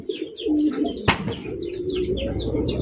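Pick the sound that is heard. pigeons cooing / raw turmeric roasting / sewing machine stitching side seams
pigeons cooing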